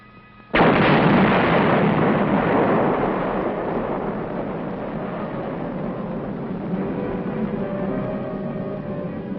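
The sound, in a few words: demolition explosion blowing up a nitrate factory smokestack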